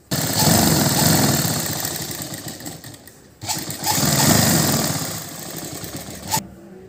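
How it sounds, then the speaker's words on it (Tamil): A sewing machine runs in bursts while stitching the lining of a boat-neck chudidar, with a loud, steady motor whir that pauses briefly midway, restarts, and ends with a short final burst. "இப்போ நம்ம தச்சாச்சு ஒரு தையல் போட்டனே"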